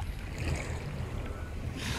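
Ocean waves wash up over beach sand in a steady, close rush of surf, with a brighter hiss of foam building near the end.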